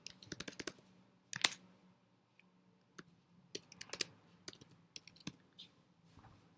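Bursts of keystrokes on a computer keyboard while a simple Java program is typed, quick irregular clicks in clusters with short pauses between, close and fairly quiet, no voices.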